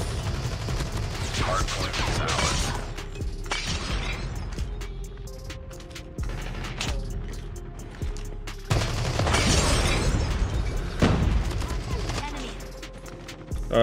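Holger rifle gunfire in the shooter COD Mobile, with bursts of shots coming close by in several loud clusters amid continuous game sound and some speech.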